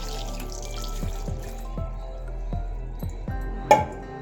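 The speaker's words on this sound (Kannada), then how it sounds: "ಈಗ ಕುಕ್ಕರ್ ನೀರು ಹಾಕೊತಾ ಇದ್ದೀನಿ." Water being added to a pressure cooker while cooking kheer, heard as close, soft dripping and splashing with a few sharper plinks and one brighter splash near the end.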